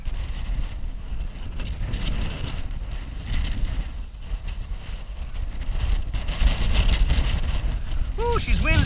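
Heavy wind buffets the microphone in a steady low roar, with rumbling gusts swelling toward the end and a brief voice near the close.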